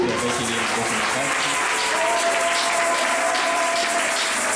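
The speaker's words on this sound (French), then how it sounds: "Acclamez très fort pour lui." A church congregation bursts into loud, sustained applause that fills the room, steady and dense from start to finish with only faint crowd murmur underneath.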